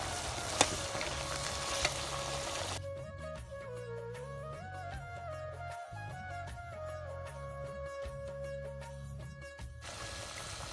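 Food frying in a pan over a campfire near the Siachen Glacier in Pakistan, with tomatoes being added. A steady sizzle is heard at the start and end, and music plays over most of the middle.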